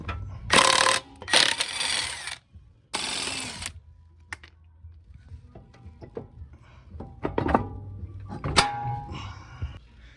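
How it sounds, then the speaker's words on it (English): Wheel lug nuts come off a 2005 Subaru STI, with several loud bursts of an impact wrench near the start. These give way to quieter clinks, thunks and rattling handling sounds close by. "let's take off the wheel and see what's up"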